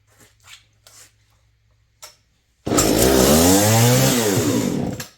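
A small engine is pulled over with choke and throttle; after a few faint rattles and a sharp clack it catches and runs loud and raspy, revving briefly before cutting out.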